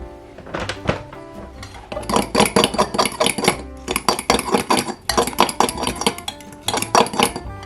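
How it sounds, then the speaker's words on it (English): Crushing chunks of feta cheese in a bowl for Dash mini waffle batter, heard as close, fast clinks and scrapes of a utensil against the bowl in rhythmic bursts, with brief pauses between runs. "I'm trying to crush up some of the larger chunks of cheese."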